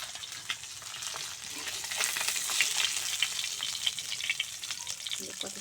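Silver carp fish fry in a pan with a dense crackling sizzle, rising slightly and popping with scattered spits of oil, close and moderately loud with no voices.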